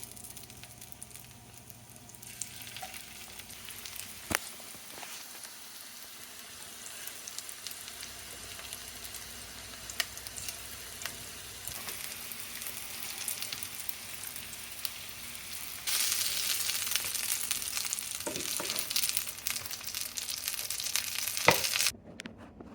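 Spanish mackerel pieces frying in hot oil in a pan, a steady close sizzle with scattered clicks and pops that grows louder and brighter toward the end.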